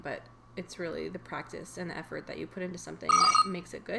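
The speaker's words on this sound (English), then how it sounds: "Sorry, that's my phone." A mobile phone rings with a short, bright electronic trill that sounds once briefly under a person talking continuously.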